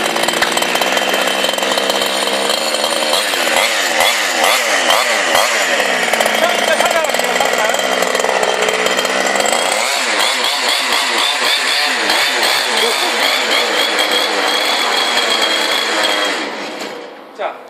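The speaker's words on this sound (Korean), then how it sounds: "너무 시동이 잘 걸리네요" A Losi 1/5 Desert Buggy RC car's small gas engine runs loud and close with a raspy, chainsaw-like buzz. The revs waver and dip, then pick up again before the engine cuts off abruptly at the end.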